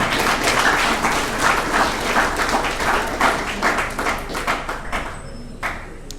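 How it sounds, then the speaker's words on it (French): At an anniversary conference, an audience gives presenters loud, dense applause that swells, then thins into scattered claps and fades out near the end. "Je vous demande de les applaudir, s'il vous plaît"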